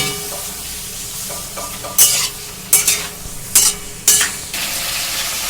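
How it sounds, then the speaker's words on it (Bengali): Tomato sautéing with garlic in a pan sizzles steadily up close while a spatula scrapes the pan in four loud strokes, evenly spaced over a couple of seconds, with no speech. "এবার টমেটোটাকে এই রসুনের সঙ্গে ভালো করে কষে নেব"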